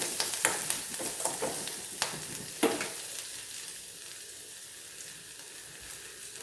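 Spices for a tadka fry with generous asafoetida in a pan, giving a steady crackling sizzle with sharp pops early on that settle into a softer, even frying hiss. No voices are present.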